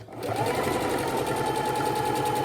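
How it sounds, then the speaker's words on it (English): A sewing machine runs continuously, stitching along the edge of an adult fabric bib with a steady, close, whirring hum and fast needle rhythm. "We're just going to sew right on the edge."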